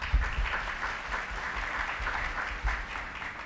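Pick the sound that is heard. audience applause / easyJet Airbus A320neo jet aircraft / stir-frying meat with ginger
audience applause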